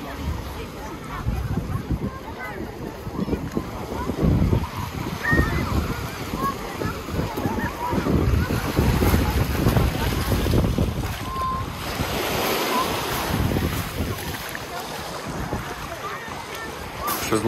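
Steady roar of sea waves washing onto a beach at Novy Svet, Crimea, with wind buffeting the microphone throughout.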